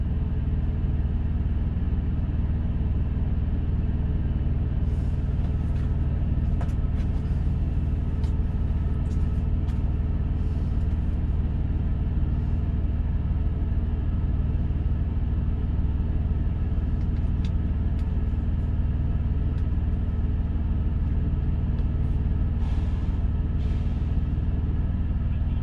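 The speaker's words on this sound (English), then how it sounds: "I'm driving a green Peterbilt 389." A green Peterbilt 389 truck pulling an empty step deck trailer cruises down the road, a loud, steady low engine rumble and road drone inside the cab, with scattered faint rattles and clicks, no speech.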